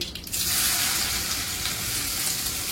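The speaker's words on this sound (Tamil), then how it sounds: "எண்ணெய் பொரிஞ்சிக்கல, கடுகு பொரிஞ்சிச்சு." Mustard seeds and cumin seeds spluttering and crackling in hot oil for a dried-fish thokku, a dense, steady, close sizzle that runs throughout with no voices.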